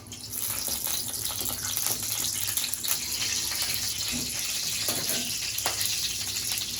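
Water runs steadily from a tap in a village kitchen, a continuous hissing gush with faint clinks underneath, moderately quiet and without speech.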